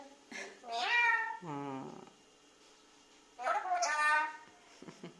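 A cat meows close by, a few drawn-out calls with a short pause before the last one.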